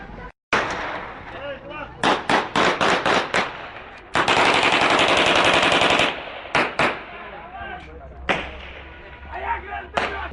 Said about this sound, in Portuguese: os tiros disparados para o alto